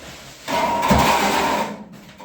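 A trowel scrapes inside a bucket while quicklime putty is mixed with hot water, one close, gritty scraping stroke of about a second and a half rising from near silence and then fading.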